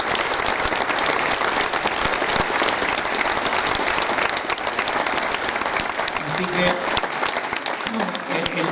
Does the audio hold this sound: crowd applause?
yes